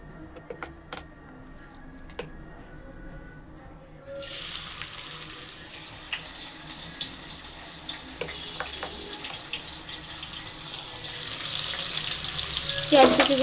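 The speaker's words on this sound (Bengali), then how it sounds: "এবার পেঁয়াজ কুচিগুলো দিয়ে দেব।" Chopped onions tipped into hot oil for an okra dish: quiet kitchen background first, then a sudden loud hiss that keeps sizzling steadily, with a brief clatter near the end.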